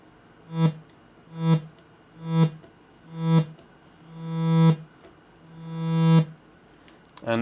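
Six repeated synthesizer notes with the attack raised, each swelling in gradually rather than striking, the later two rising more slowly and longer before cutting off, buzzy and harmonically rich, followed by a brief click at the end.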